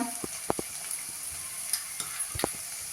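Onion and cabbage stir-fry in a pan with a soft, low sizzle, broken by a few faint clicks and scrapes from stirring.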